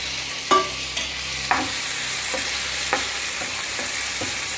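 Two medium roughly chopped tomatoes sautéing with fried onions in a pan, a continuous close sizzle with a few spaced thumps and scrapes of a stirring spoon.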